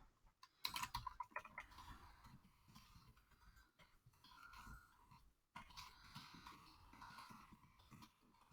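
Someone types quietly on a computer keyboard, with irregular clicks in short runs and a few pauses, faint and close, with no speech.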